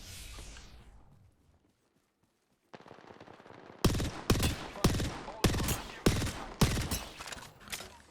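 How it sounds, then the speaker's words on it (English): Gunfire erupts in an Apex Legends match: a rapid automatic burst, then a string of loud, evenly spaced heavy shots, following a brief fading sound and a near-silent gap, with no talk. "Wait, was someone shooting behind me?"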